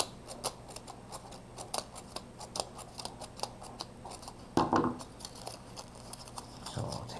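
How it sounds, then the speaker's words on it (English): Scissors snip paper into fringes for a paper owl craft, making repeated quick cuts in an uneven rhythm, close and moderately loud, with a louder rustle of paper near the end. "I'm just going to use my scissors to make fringes in them."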